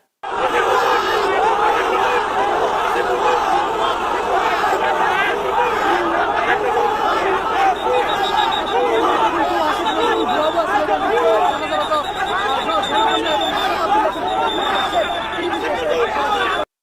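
A large, dense crowd shouts and chants protest slogans at a politician, "fake, fake". The roar is loud and continuous, overlapping voices with no break.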